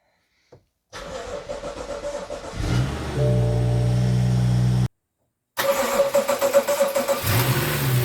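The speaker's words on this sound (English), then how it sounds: "So we are going to turn the engine on now." A 2016 BMW M235i engine cranks with a stuttering starter, catches with a loud rev, and settles into a steady idle; after a brief gap it cranks and fires again, revving up.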